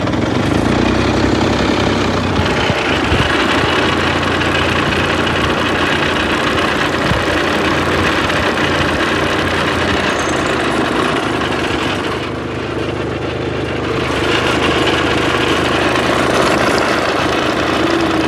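A farm tractor hitched to a trolley runs continuously on a road beside fields, giving a loud, close, rough engine drone with knocking pulses throughout.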